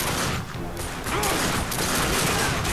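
Gunfire in The Darkness 2 video game roars as a dense, loud, continuous barrage of overlapping shots and booms with no pauses.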